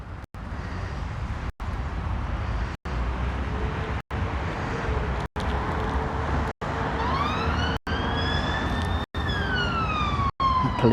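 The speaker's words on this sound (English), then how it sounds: "Police, fire engine, ambulance. That's police, right?" Police car siren wailing as it passes, its rising and falling tone sweeping clearly over a steady background rumble of road traffic, fairly close and continuous with no talking.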